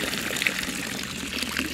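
Warm spring water near Lake Batur in Indonesia flows and trickles around a foot, a brief, steady close splashing with no talk.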